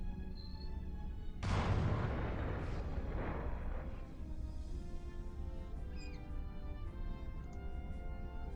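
Photon torpedo and phaser hits from the Starfleet Command space combat game land as a sudden loud blast with a rumbling decay, followed by softer sweeping electronic tones and fading effects.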